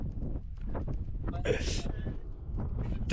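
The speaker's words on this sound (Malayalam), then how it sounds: "മോനെ എന്ത് കാറ്റുടാ" Gusty wind rumbles against the microphone while a person talks over it, with a brief hissy burst partway through.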